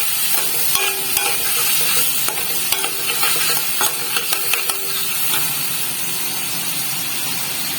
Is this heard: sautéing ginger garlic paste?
yes